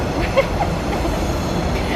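Steady rumbling interior noise of a moving electric train, a continuous low roar with faint rattles and a brief squeak.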